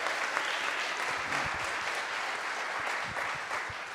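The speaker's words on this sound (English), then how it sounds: "Round of applause," A crowd applauds at a guitar clinic held at The Music Zoo, giving dense, even clapping that holds at a constant level for several seconds.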